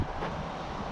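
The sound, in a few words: wind blowing at outdoor workshop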